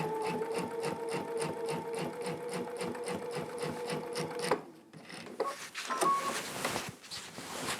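A sewing machine with a walking foot stitches a quilt in a steady, rapid mechanical rhythm, then stops and gives way to softer handling and rustling of fabric.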